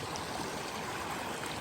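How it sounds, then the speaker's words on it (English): San Ysidro Creek runs high with heavy flow, giving a steady, dense rushing wash of water that stays even and close with no voices. "this is San Ysidro Creek, and there's so much coming through it right now"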